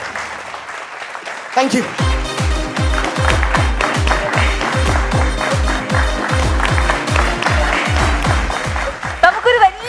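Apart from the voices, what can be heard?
audience applause after a stage performance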